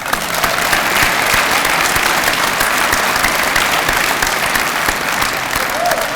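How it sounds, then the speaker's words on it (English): A graduation gala audience breaks into sustained, loud applause that holds steady throughout the clip, dense and close, with no clear talking over it. "let's give them a round of applause"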